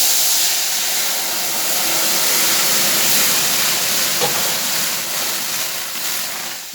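Dal poured into a pan of hot whole cumin tempering for a mango dal with fish head, giving a steady, loud broadband sizzle and hiss that continues without talk and eases slightly toward the end.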